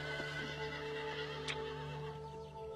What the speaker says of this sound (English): These horses are just fine without them.